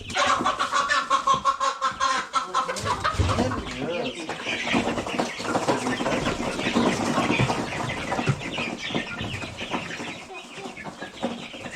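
Chickens cluck and squawk in agitated bursts close by as they are caught, with scuffling and people talking over the commotion.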